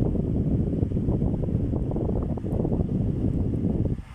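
An old Camel electric stand fan runs on its highest setting, speed 3, giving a steady, loud, close rushing whir of air with no pauses.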